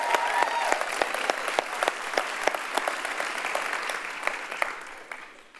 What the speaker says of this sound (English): give Jason another round of applause there.